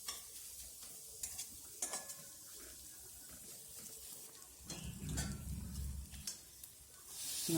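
Onion sautéing in a pan for a sprouted moth bean usal, a faint steady sizzle with occasional sharp utensil taps and scrapes, and a brief low rumble near the end, with no voices.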